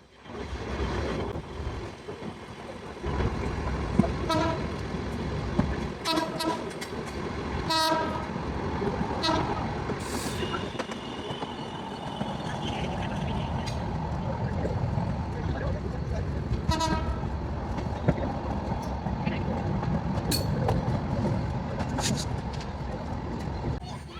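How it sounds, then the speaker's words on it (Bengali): The Benapole-bound Ruposhi Bangla Express rumbles into Narail railway station, a long heavy rolling roar with clattering wheels and a sustained horn blast midway, while voices carry faintly around the platform. "অল্প সময়ে বেনাপোল অভিমুখী রূপসী বাংলা এক্সপ্রেস ট্রেনটি নড়াইল রেলওয়ে স্টেশন প্রবেশ করবে।"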